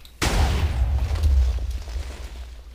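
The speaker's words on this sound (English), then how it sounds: "So I'm going to shoot it to the right this time." Redstone cannon firing in Minecraft: a single deep boom bursts out abruptly after a brief quiet, then rumbles and slowly fades over a couple of seconds, loud and close.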